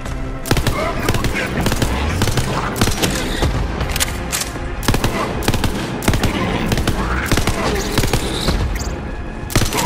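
Dense, continuous gunfire from the video game Borderlands 3 rattles in rapid automatic bursts with booming impacts, loud and close throughout, while a voice talks underneath.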